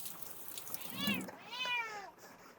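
A cat yowls loudly twice in rain, each cry a long rising-and-falling wail, wanting back into a car; nearby, close and alone with no talk.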